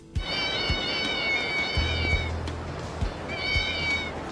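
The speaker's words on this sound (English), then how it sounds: "every single footstep you make is replaced with a cat's meow" Cat meows replace footsteps in a Yakuza video game, a string of short, clear mewing calls over a soft low background with occasional thumps.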